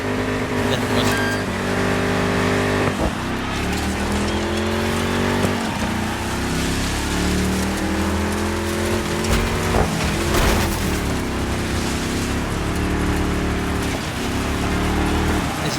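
Classic rally cars, including a Lancia Stratos, racing in the DIRT 5 video game: loud engines revving and shifting gears continuously, with rising and falling pitch sweeps and occasional clunks, close and dominant throughout.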